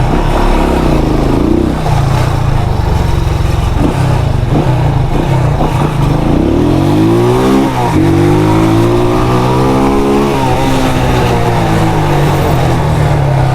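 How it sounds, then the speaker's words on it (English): Heavy road traffic in Half Way Tree, Jamaica, with car and motorcycle engines revving close by, a loud continuous rumble with rising and falling engine pitches throughout. "Yo, the traffic thick."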